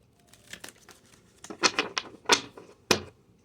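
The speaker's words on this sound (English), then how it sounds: "I'm really feeling we need to do a shuffle, so let's do a little shuffle." A deck of tarot cards is shuffled by hand, giving a few soft riffling bursts and sharp papery slaps at irregular intervals, close and fairly quiet, with no voices.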